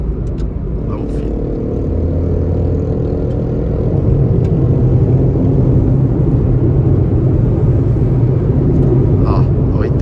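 A Renault Kwid accelerates on a highway, heard from inside as a loud, steady engine and road rumble that builds gradually, with people talking over it.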